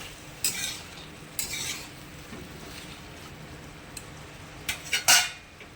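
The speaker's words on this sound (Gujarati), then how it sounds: "આ સિંગદાણા છે એ પણ આપણે સાથે એમાં નાખી દઈશું અને એને પણ સબ્જીની સાથે થોડું સોટે થવા દઈએ" Vegetables and peanuts being sautéed in a pan, heard as a few sharp scraping stirs and clinks of a utensil against the pan, spaced out over a quiet background with no talking.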